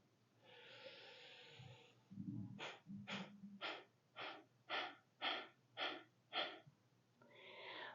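Slow yoga breathing during an energizing flow class: one long exhale, then a run of about eight short, forceful rhythmic exhalations pushed from the belly, close and clear with no talking.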